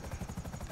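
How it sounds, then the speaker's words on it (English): A helicopter in the GTA V Online video game, its rotor beating in a fast steady thump-thump rhythm, moderately loud and alone for a brief moment. "Oh, I'm back in my helicopter."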